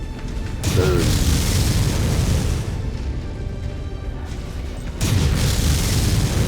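Artillery explosions in the MechWarrior 5: Mercenaries video game, a loud sustained booming rumble that surges at the start, eases slightly, then swells again near the end.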